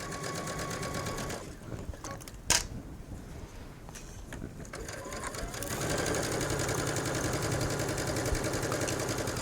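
Home sewing machine stitching around the neckline of a Bella Top, a steady mechanical whir that runs from the start, pauses briefly around a sharp click, then picks up louder and faster for the rest.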